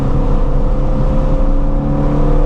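A Ford Mustang GT350R engine revs loudly and close by, a sustained, throaty drone with steady harmonics that holds for a couple of seconds.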